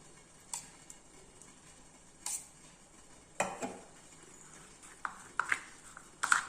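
Chopped onion, green chili, salt and curd stirred together for raita, a spoon tapping and scraping against the bowl in a few sharp, separate clinks and scrapes spread through an otherwise quiet stretch, with no talking.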